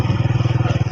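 A motorcycle rides along a road past orchards and crop fields, its engine pulsing in a steady, fast rhythm close by and loud for the full second.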